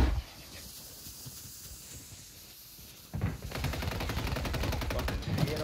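Rapid gunfire from the video game Plunder erupts midway, a dense run of repeated shots after a quieter stretch, loud and sustained to the end.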